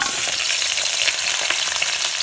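Chicken frying in reused oil in a pan, a loud, dense, continuous crackling sizzle close up with no pauses.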